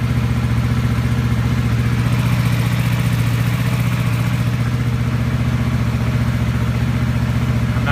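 Kawasaki VN750 motorcycle engine idling after a cold start, a steady, slightly high idle with an even rhythmic thrum, close and loud with no talk.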